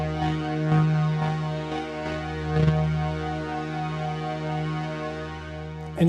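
Kick drum from an OP-1 synthesizer run through an Endorphin.es Golden Master pedal in sidechain mode, a steady repeating thump pumping a sustained tonal bed, the pattern looping evenly throughout.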